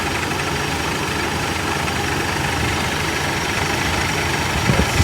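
A 1969 Chrysler 300 engine idles with its AC compressor clutch engaged, a steady, close mechanical drone with a few faint clicks near the end and no talking.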